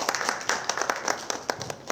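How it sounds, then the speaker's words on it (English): Applause from the audience welcoming guests at an expert panel discussion on AI and digital transformation, a brief spatter of scattered hand claps rather than a full ovation, sharp individual slaps standing out against a thin, busy background. "Let's have a round of applause for all the guests please."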